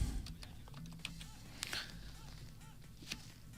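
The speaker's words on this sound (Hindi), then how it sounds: "अच्छा मेरी टाइपिंग इतनी बुरी है ना?" Typing on a computer keyboard, soft irregular key clicks pattering on and off, fairly quiet and close, with faint background noise.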